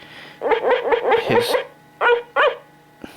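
A 1986 Wrinkles talking dog puppet toy in sleep mode gives out a close, loud run of short electronic yips and barks, then two separate yaps after a pause, with a faint steady hum beneath.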